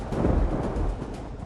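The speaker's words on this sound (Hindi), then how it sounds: "कई इलाकों में बारिश के साथ बिजली कड़कती दिखी।" Deep rolling thunder rumbles steadily through heavy rain during an evening downpour in Delhi, a low, continuous roar lasting the whole stretch, with no voices.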